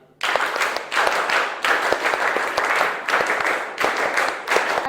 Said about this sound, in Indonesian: Tepuk pramuka 5 kali.